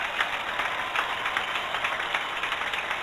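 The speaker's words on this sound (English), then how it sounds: "They were clapping for somebody" Steady applause from a high school football game crowd, a broad wash of clapping heard from a distance, with no talk over it.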